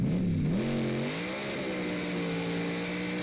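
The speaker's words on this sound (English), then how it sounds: "See Andy doing the tyre warmer there, pushing forward on the brake." A Pro Mod drag car does a tyre warmer burnout, its engine tone sweeping up to a loud, steady, harsh roar that holds without a break.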